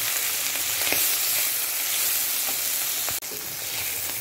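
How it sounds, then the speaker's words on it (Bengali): Malabar spinach seeds sizzle in hot oil with fried garlic and onion, a steady close crackle broken by soft stirring scrapes and a brief clatter near the end. "এখন পুঁই শাকের ফলগুলো দিয়ে দিচ্ছি। দিয়ে এখন এটা ভালোভাবে মিশিয়ে দিব।"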